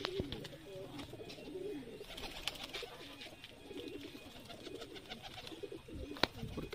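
Pigeons coo steadily in a large loft, their soft, rolling calls overlapping throughout with faint chirps and rustling around them and no talking.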